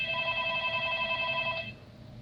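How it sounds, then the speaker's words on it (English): A telephone rings indoors with a steady electronic trill that stops partway through, moderately loud, followed by quiet room noise, no speech. "The phone rang."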